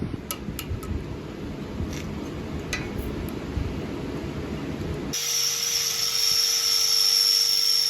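A drill boring a hole in a trailer while it is being rewired: a steady close whine under rough rumbling, shifting partway through to a brighter, higher-pitched drone that holds to the end.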